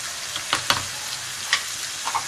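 Coriander, chilli and turmeric spices frying in a pan for aloo kofta, a steady sizzle punctuated by several sharp spatula scrapes and clicks as the masala is stirred, close by.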